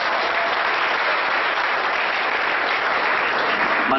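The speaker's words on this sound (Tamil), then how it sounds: "உங்களுக்கு ஒரு தனியான கைத்தட்டல்களை நீங்களே கொடுத்துருக்க" Audience at a blood donation camp and award event applauding themselves, a thick, even wash of clapping from a large crowd that holds steady and loud for the whole stretch.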